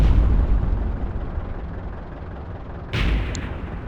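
An artillery shell explodes near an Easy 8 tank in World of Tanks: a low rumbling battle ambience, then one sharp, loud blast burst late on.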